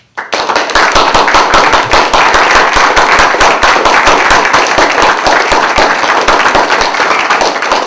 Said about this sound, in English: I just want to give you a big round of applause